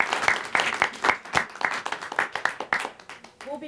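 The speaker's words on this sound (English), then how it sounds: "I'd like to end with a round of applause for Tomas." A crowd claps in a dense, sustained round of applause with sharp hand claps throughout, fairly close, and a brief voice near the end.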